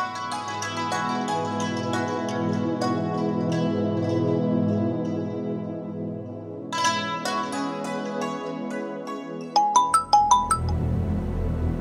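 A mobile phone plays a melodic ringtone as a call is placed, a steady electronic tune that sounds alone without talk and ends in a few bright chiming notes.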